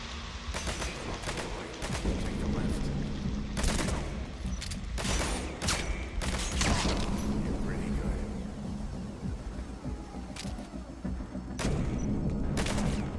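Gunfire in Metal Gear Solid V: The Phantom Pain, a hospital battle with soldiers: dense, continuous bursts of shots and booms layered over a loud, steady din of combat throughout.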